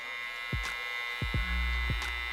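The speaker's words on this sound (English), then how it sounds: "you wanna put in your clipper, turn it on to put your trimmer in" An electric hair clipper or trimmer runs with a steady, close, low buzzing hum, while a few soft thumps and handling noises break in over it.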